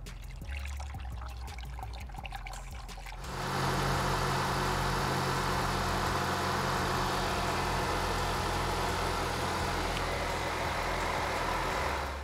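A 10th-gen Honda Civic's 1.5L turbo engine starts and settles into a steady idle with a broad hum, following a few seconds of quiet clicking and handling noises at the start.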